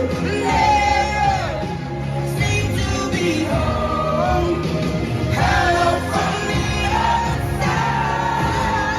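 A dense concert crowd screams and belts out a song together, a loud, continuous wall of raised voices with yells and whoops rising and falling throughout.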